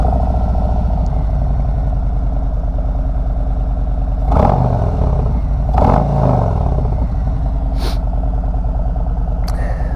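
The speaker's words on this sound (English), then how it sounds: "last thing we'll hear is that Tab Performance exhaust" A Harley-Davidson Road King Special with a Tab Performance exhaust idles with a loud, deep, lumpy rumble close by, then takes two sharp throttle blips that rise and fall before the engine settles back to idle.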